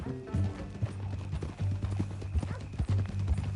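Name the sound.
horse hooves clip-clopping in video game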